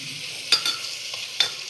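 Meat cooking in a pan for a potato and meat dish, with a steady hiss of frying broken by two sharp scrapes of stirring.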